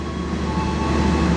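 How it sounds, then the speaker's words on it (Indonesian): The Logawa passenger train departing Purwokerto station gives a steady, loud rumbling hum with faint tonal whine, continuous throughout the short stretch and without talk. "kurang lebih 2 menit lagi kereta api Logawa akan segera diberangkatkan pada"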